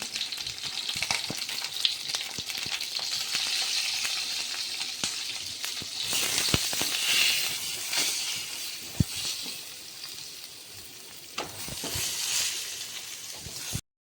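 Pointed gourd pieces frying in oil in a pan with a little turmeric, giving a steady close sizzle with scattered pops and occasional clicks of stirring, no voices.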